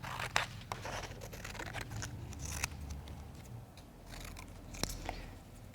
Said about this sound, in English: So if I want to add more on top, I can cut some small slits.